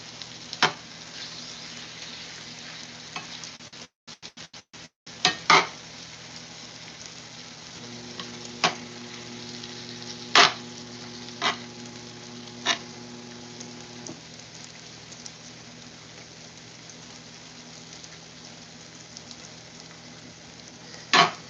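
Sliced steak and onion fry on a hot surface for cheesesteaks, a quiet steady sizzle with scattered sharp pops and crackles and a brief scrape partway through, no voices.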